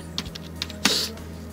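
A handful of quick keystrokes on a computer keyboard, close and crisp, ending in a slightly heavier key press, with no one speaking.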